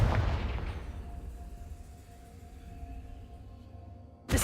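A single fiery spell explosion booms in a wizard-school video game, and its rumble fades over a few seconds. A second sharp blast hits just at the end.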